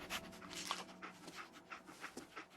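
Dogmeat, the dog companion in the video game Fallout 4, pants steadily at close range with quick repeated breaths and a faint whimper, no talk over it.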